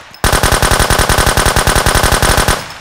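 Full-auto weapon fire in the shooter game Road to Vostok: one loud, close burst of about twenty evenly spaced rapid shots lasting over two seconds, then a brief decaying tail, with no talk.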